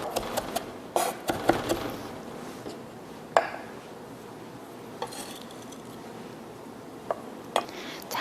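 Knife mincing julienned vegetables on a cutting board during Korean cooking certification practice, giving sparse, light taps and clicks with a few sharper knocks against a quiet background.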